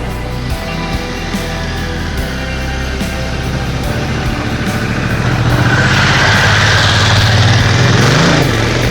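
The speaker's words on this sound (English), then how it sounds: "It's got a nice exhaust note." Honda Africa Twin motorcycle on a forest trail, its engine note steady and close, with a deep throbbing exhaust that swells louder and rises in pitch toward the end as the rider revs.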